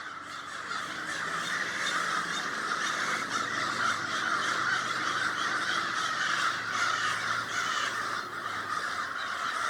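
A large flock of crows caws continuously on a morning outdoors, their harsh calls overlapping into a loud, dense chorus that carries steadily with no letup.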